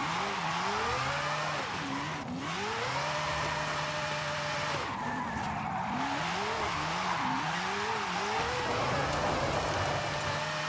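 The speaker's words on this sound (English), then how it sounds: "Really just a lot of e-brakes going to happen here." Engine drone and sliding tire squeal from a car being handbrake-drifted around a track in Forza Horizon 5, with continuous revving that rises and falls through repeated slides, loud and steady.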